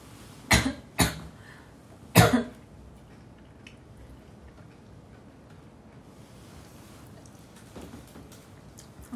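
A few sharp coughs close to the microphone, two quick ones and then a louder burst, followed by a faint steady background hiss with no talk.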